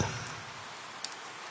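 Light rain falls at a cartoon railway station on a wet morning, a steady soft patter with a few faint drop ticks and no voices.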